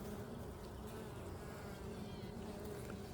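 Calm honeybees hum in an open hive during an inspection, producing a steady, soft, continuous buzz throughout.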